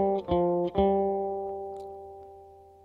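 An electric guitar plays a bluesy pentatonic figure: two picked notes, then a long ringing note that slowly decays. The playing is clean, close and moderately quiet, with no talking.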